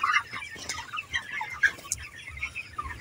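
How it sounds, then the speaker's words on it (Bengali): A flock of chickens clucks and squawks in agitation as one is caught, with overlapping close calls and a brief flutter of wings, and no talk over them. "সো এখন আমি মুরগি ধরবো"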